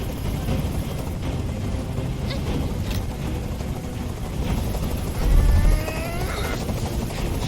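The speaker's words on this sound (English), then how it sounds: "Tell that helicopter to get out of here." A helicopter's rotor in Detroit: Become Human drones and whirs steadily at a moderate distance, with a low rumble swelling briefly near the end.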